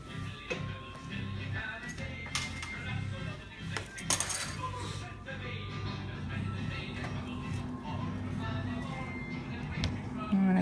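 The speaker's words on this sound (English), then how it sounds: "We're gonna cut one now so we can see what they taste like." A knife cuts through a chilled dessert bar in a pan: soft scrapes and several light metallic clinks and taps come in a loose, irregular rhythm under a person talking.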